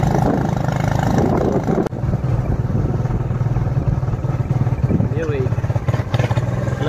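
A motorcycle engine rumbles steadily while riding on a road, with a continuous low drone and rattling close by and a brief clatter partway through; voices are faint beneath it.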